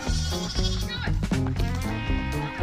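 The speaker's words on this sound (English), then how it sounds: "now they chasing around the goats." Goats on a farm bleat loudly and repeatedly in overlapping cries while being chased around, close by, with people talking over them.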